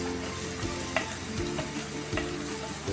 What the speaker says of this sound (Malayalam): അതിലേക്ക് നമുക്ക് ഇഞ്ചിയും വെളുത്തുള്ളിയും ചതച്ചത് ചേർക്കാം.